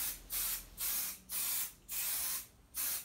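Short bursts of aerosol spray adhesive misted onto canvas for a quilted backpack back panel, five evenly spaced hissing blasts with brief pauses between, close and fairly loud with no talk.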